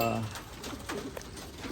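Racing pigeons coo softly in a loft, low murmuring calls close by with scattered clicks and rustles around them.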